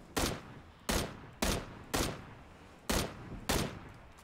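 Six evenly spaced, sharp single gunshots in PUBG, each a loud crack with a short decaying tail, fired at a steady pace of roughly one every half second to second, with no talking.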